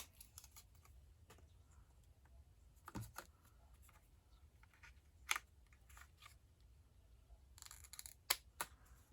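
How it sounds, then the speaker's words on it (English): Small craft snips cut away acetate overhang on a shaped easel shaker Christmas card, giving a few sharp, isolated snips spread across an otherwise quiet background. "I'm just going to come in with my snips and snip them out"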